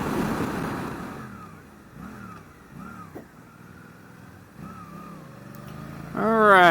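A 2023 Suzuki GSX-8S motorcycle rides along a twisty road, engine note rising and falling through repeated short revs and shifts at moderate distance, then a louder climbing rev at the end.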